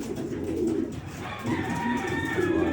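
Pigeons coo in a loft, soft low throaty coos repeating close by in short bursts, with some faint background rustle.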